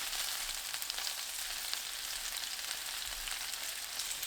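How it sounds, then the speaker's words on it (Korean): Pork belly sizzles steadily in a pan over medium heat, a close, even, continuous crackle with no voices. "중불로 고기 돌려가면서 노릇하게 익힙니다"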